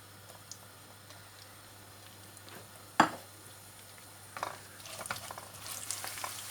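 Onions drop into hot oil over a full flame for chicken Manchurian, giving a faint steady sizzle with one sharp clatter midway and louder crackling and stirring scrapes toward the end.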